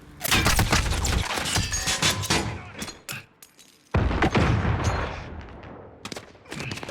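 Gunfire from the video game Modern Warfare: dense, loud bursts of automatic shots fill most of the stretch, breaking off briefly before another heavy volley and a few scattered shots near the end.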